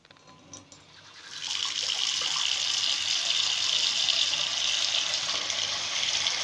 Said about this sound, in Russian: Включаем холодную воду.